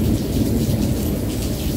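Steady rain with rumbling thunder during a storm, a dense continuous wash of low rumble and patter at fairly loud level, with no talking.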